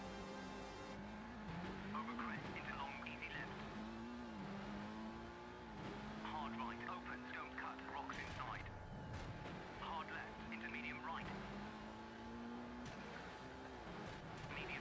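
A Nissan Skyline rally car races in the video game Rallisport Challenge, with its engine revving up and down through repeated gear shifts and tires squealing in skids, while a person talks over the game sound.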